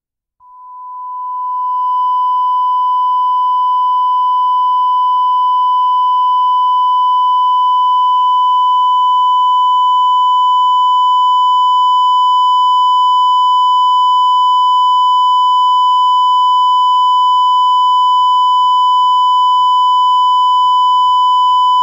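A steady 1 kHz test tone fades in and then holds loud and unwavering, a pure whistle-like pitch with faint upper harmonics, alone with no voices.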